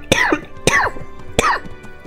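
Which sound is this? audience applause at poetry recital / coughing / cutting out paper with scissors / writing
coughing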